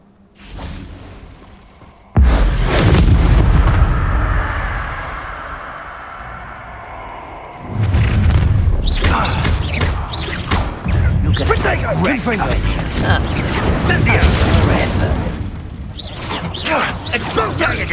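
Spell explosions in the video game Hogwarts Legacy hit as a sudden loud blast followed by a long rumbling decay. A second burst of crashing impacts and whooshes follows with combat noise, while voices shout over the action.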